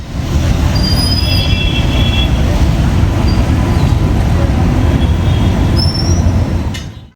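A 22625 double decker express train rolls along steadily with a loud, continuous rumble of wheels on rails and occasional high squeals of wheels, heard up close from aboard.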